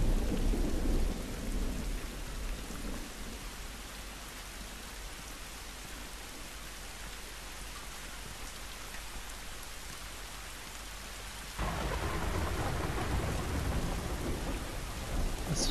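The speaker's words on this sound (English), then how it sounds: "Listen to that rain, the thunder." Steady rain hisses over surfaces in The Last of Us while thunder rumbles, first a low roll near the start, then a louder crack and rumble that swells sharply late in the storm.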